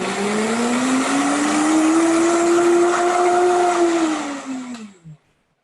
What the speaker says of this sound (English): We'll put on a blender